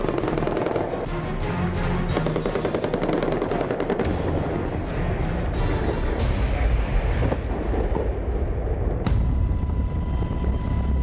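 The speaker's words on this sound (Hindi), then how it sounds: "हेलीकॉप्टर हवा में उड़ती वो वॉर मशीन" A military helicopter flies close overhead amid rapid bursts of machine-gun fire during a combat assault on a hilltop Taliban hideout, loud and dense throughout, with the rotor din continuing as the firing thins near the end.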